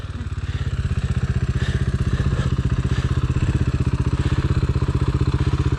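Dirt bike engine chugging steadily at low revs while climbing over good-sized boulders in snow, a loud, close, continuous pulsing drone with faint clatter and thumps.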